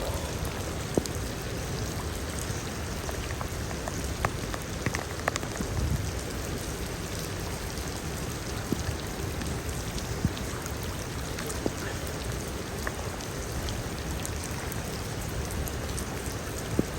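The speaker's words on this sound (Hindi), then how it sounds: "इतनी तेज़ बारिश आ रही है।" Steady heavy rainfall pattering densely on surfaces around a swimming pool, a continuous hiss with scattered individual drop hits, lasting throughout without any talking.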